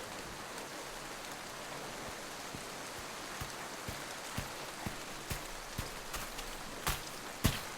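Steady rain falls outside a cabin in a forest, a dense even hiss with scattered louder drips and drops landing nearby, growing more frequent toward the end, with no voices.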